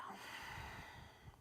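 A slow breath exhaled through the nose during a yoga stretch, a soft airy rush heard close and quiet against faint room tone.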